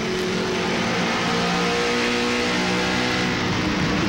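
NASCAR race cars roaring around Bristol Motor Speedway in the 1996 Gambler Bass Boats 200, a continuous loud, dense engine drone with steady high revving and no gaps.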